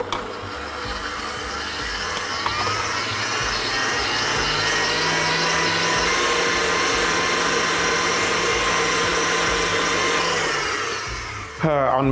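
An electric grinder mincing marinated beef heart for tolma runs as a loud, continuous motor whine for about eleven seconds, then cuts off abruptly near the end.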